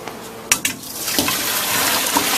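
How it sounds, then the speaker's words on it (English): Water and pasta pour into a kitchen sink strainer, starting with a couple of sharp clatters and then a steady rushing pour that continues to the end. "just strain the pasta in there"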